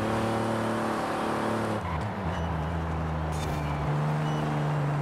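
Cadillac limousine driving in the racing game Forza Horizon 5, a steady engine hum with a shift in pitch partway through, continuous and fairly loud throughout.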